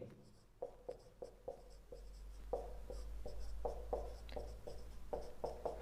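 Marker or chalk writing answer options on a board, a series of short scratchy strokes and taps in an irregular rhythm, close and fairly quiet over a steady low hum.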